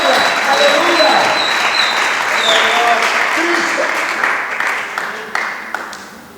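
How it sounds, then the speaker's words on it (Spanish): Church congregation clapping in praise during a Spanish-language worship service, a dense wash of applause with voices mixed in that gradually thins toward the end. "Dale palmas a Cristo de la gloria, aleluya."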